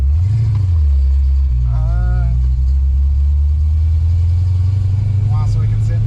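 Car engine running steadily while driving after being left to cool, a continuous low drone with a brief rising whine partway through and faint background noise.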